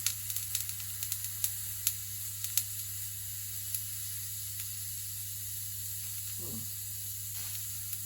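Quiet, steady sizzling and crackling with sharp little pops from an overheating heating element with a hot spot, heaviest at first and thinning out, over a low constant hum.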